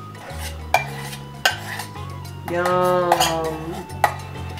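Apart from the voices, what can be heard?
stirring pimento cheese spread with sauce in bowl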